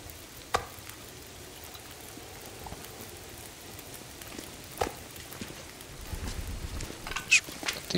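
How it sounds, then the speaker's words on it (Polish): Food frying over a campfire in the survival game The Long Dark gives a soft, faint sizzle with light crackles and occasional sharp pops, building slightly toward the end. "Niech to się smaży."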